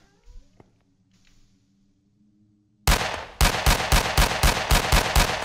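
Shooting at a ghost in a horror video game: after a near-silent stretch, a rapid string of about ten sharp, loud gunshots fires in a steady rhythm.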